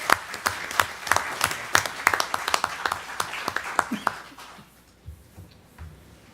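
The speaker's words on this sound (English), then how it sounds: "another round of applause for our new incoming mayor, William Mann." Audience at a Temple City council meeting applauds a new incoming mayor, with distinct individual claps standing out from the crowd for about four seconds before the applause fades into quiet room noise.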